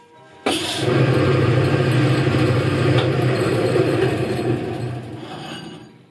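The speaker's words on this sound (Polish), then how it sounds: "teraz jak pociągnę to się włączy pranie" A 1962 Cygnus Alba washer-spin dryer starts its wash cycle with a sudden switch-on, then hums and churns steadily. Near the end the motor and clutch wind down to a stop.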